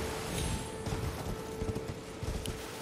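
Horse hooves clop in Elden Ring, a quick run of soft, rhythmic hoofbeats lasting a few seconds, fairly quiet and alone.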